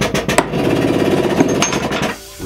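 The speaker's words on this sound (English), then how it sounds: "Place your foot on the pneumatic foot pedal and just simply press down." Pneumatic stationary roller chain breaker, foot-pedal operated, pressing its ram down on a roller chain: loud hissing air with sharp metallic clanks at the start and mid-way, then a sudden cut-off near the end.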